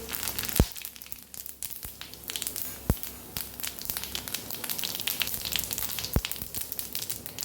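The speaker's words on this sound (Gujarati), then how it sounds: "અહીં આપણું તેલ સરસ ગરમ થઈ ગયું છે તો ખડા મસાલા ઉમેરી દઈશું" Whole star anise, cinnamon pieces, cloves, a dried chili and cumin sizzle in hot oil with a steady close crackle and a few sharp pops, no talk.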